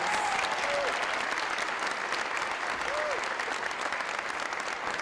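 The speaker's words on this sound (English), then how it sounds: "Please give them a huge round of applause." A crowd applauds loudly and steadily the whole time, with a couple of brief whistles rising over the clapping.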